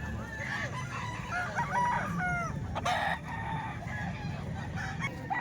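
Chickens for sale cluck while roosters crow in short bursts and a longer call, moderately distant, with a sharp knock midway and steady outdoor noise throughout.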